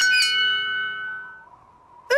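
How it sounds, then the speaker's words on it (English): A cartoon bell in a castle in the clouds rings once with a clear metallic strike, its bright tone sustaining and slowly fading before a sudden new sound cuts in at the end. "I'll ring the bell."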